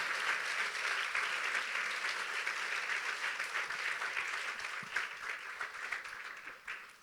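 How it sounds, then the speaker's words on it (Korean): Congregation applause at a church conference worship service, a dense steady clapping from a crowd that continues for several seconds, fairly distant and moderately loud, with no speech over it. "하나님께 영광의 박수"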